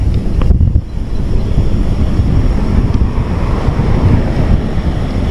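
Strong, gusty wind roars against the microphone on a ride through Dingalan, a loud and constant low buffeting with no voices.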